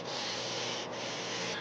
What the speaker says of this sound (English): Sanding, like many things in woodworking, teaches you patience.